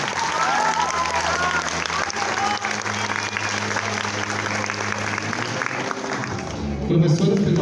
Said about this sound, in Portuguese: uma forte salva de palmas de todos nós